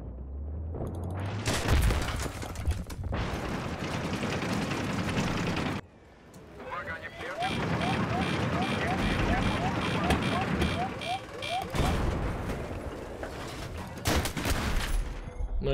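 Tank cannon fire and explosions in Battlefield 3 boom through loud, dense bursts of gunfire with rumbling engine noise and a short lull, while players talk over the battle.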